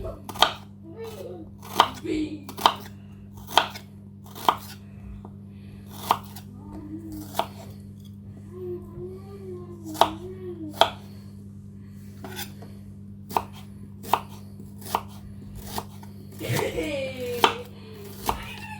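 A knife chops chicken fillets on a cutting board in a steady, evenly spaced series of crisp close knocks, with brief pauses and a faint voice talking in between.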